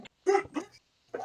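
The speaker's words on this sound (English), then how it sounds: "you're gonna hear barking" A dog gives a few quick, close barks and yips indoors, two bursts close together followed by a short pause and another bark.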